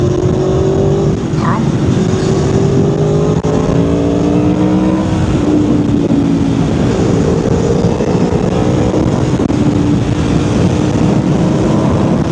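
A 2011 Aprilia Tuono V4R motorcycle downshifts and accelerates on a road, its engine note dropping and then climbing repeatedly under heavy, steady wind rush, loud and close, with a rider speaking briefly.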